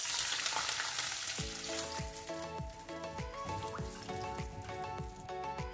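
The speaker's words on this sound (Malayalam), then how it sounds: "നമുക്കിതിലേക്ക് കഞ്ഞിവെള്ളം ഒഴിച്ചു കൊടുക്കാം." Rice water poured into a hot frying tempering of curry leaves for rasam, a loud broad sizzle that swells and keeps hissing, with a string of bubbling pops and short spoon scrapes against the pan.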